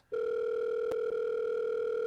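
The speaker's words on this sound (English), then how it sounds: "the line finally rings." A telephone line in the video game The Letter gives a steady electronic ringing tone that starts abruptly and holds loud and unbroken, with one brief click midway.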